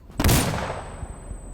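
A shotgun in World at War fires a single loud, sharp blast that rings out and fades over about a second, with faint further noise from the game behind it.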